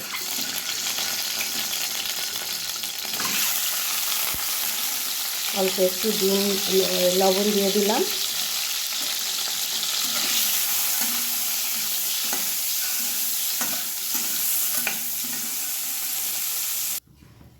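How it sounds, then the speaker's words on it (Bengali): Eggs sizzle and crackle continuously in hot mustard oil in a wok, a steady loud frying hiss throughout. A person speaks briefly over it, and a short stirring or scraping sound comes partway through. "এবার আমি ডিমগুলো ভেজে নেব।"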